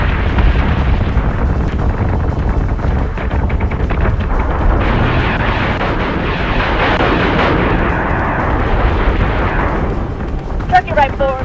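Weapons fire in a Battlestar Galactica Deadlock space battle, a continuous rumbling barrage of heavy booms and bursts, loud and dense, with radio voices speaking over it.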